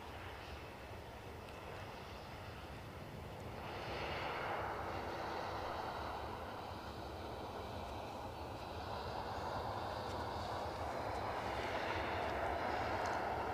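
A plane at Edinburgh Airport makes a distant, low engine roar that swells gradually and holds steady as a broad rumbling wash of sound, with no voices.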